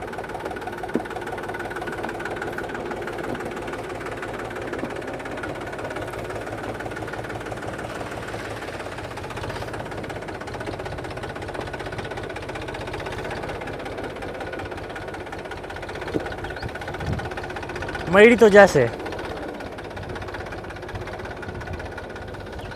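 A tractor on oversized monster tyres runs with a steady low engine drone throughout, being steered slowly through a tight turn; a brief louder burst comes near the end, with a short voice heard once.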